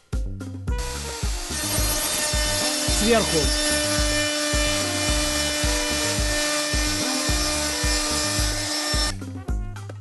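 A loud, continuous buzzing whine of a wood router grinding into a log, close and steady, with a brief spoken word partway through.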